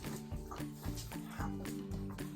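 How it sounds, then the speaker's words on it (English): Several playful dogs romp close by, giving off repeated whiny, groaning vocal bursts and short yelps in an uneven rhythm, with no one talking. "These dogs,"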